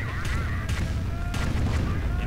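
A firestorm artillery strike in a strategy video game sends several loud booming impacts over a constant rumbling battle din, with thin whistling tones woven through.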